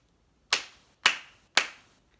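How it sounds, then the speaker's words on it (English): Three sharp hand claps ring out at an even pace in a quiet room, each decaying quickly, spelling out the syllables of a word for nursery phonics. "I'm going to clap them out and I want you to tell me which one it is"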